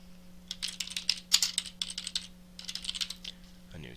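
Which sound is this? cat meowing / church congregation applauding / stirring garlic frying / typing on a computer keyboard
typing on a computer keyboard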